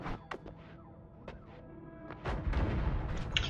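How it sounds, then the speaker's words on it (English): Heat-seeking missile blasts in the Noita roguelike: several sharp popping impacts spaced irregularly, then a louder, rumbling explosion that swells and lingers near the end. "Don't heat seeking missile me."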